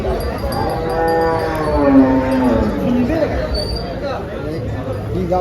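A cow moos in a long, drawn-out call at the Dhule cattle market over steady outdoor background noise and some murmuring, close and fairly loud.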